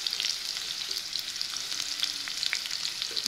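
Sliced onions fry in hot oil previously used for frying raisins, giving a steady, close crackling sizzle with scattered sharper pops and no talking.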